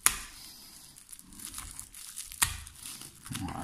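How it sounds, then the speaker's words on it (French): Parcel packaging is torn open and crinkled during an unboxing: sharp rips near the start and around the middle, with softer rustling and crackling in between and no talking. "On va déjà déballer, voir si tout s'est bien passé."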